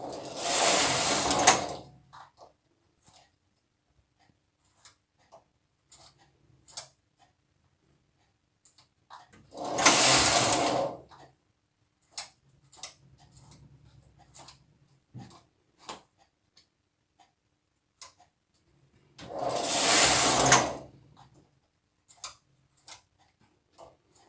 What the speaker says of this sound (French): nous allons passer les mailles derrière le clapet des aiguilles en ressortant les aiguilles de cette manière